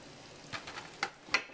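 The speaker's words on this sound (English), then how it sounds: "You're going to make sure you make sure to keep stirring them so that way they don't stick to the pan." Elbow macaroni, half of a 16-ounce box, is stirred in a pot of boiling water, giving a few faint scraping clinks against the pan over a quiet bubbling background.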